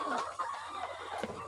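Layer chickens cluck in a dense, busy chorus on a farm, close and fairly soft, with a steady low hum running underneath.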